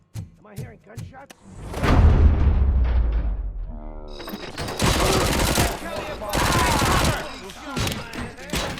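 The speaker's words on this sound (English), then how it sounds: "Am I hearing gunshots?" Gunfire in the first-person shooter RoboCop: Rogue City comes as sharp single shots, then dense sustained bursts with booming impacts, loud and close, while game characters' voices speak in between.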